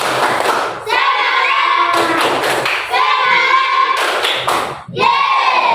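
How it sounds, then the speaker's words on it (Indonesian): A classroom of students performs a rhythmic spirit clap, with sharp, patterned hand claps and thuds under loud group chanting in a steady, repeating beat. "Tepuk semangat."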